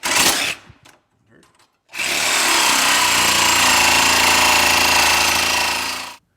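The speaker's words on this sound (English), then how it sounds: "I'm just going to go in, trim off the excess bolts, sticking in the tunnel" A power tool grinds off excess bolts sticking into the tunnel of a Polaris XLT 600 snowmobile, a brief burst followed by a few faint knocks, then a loud, steady four-second cutting whine close by.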